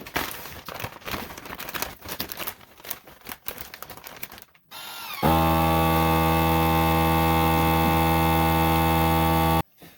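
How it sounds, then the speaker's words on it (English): A vacuum sealer pulls air from a bag holding a cured chipotle pork loin: after crinkling plastic handling, a loud steady machine drone with a strong hum starts midway and runs close and constant before cutting off near the end. "get this into a vacuum bag. We're going to vacuum seal it up."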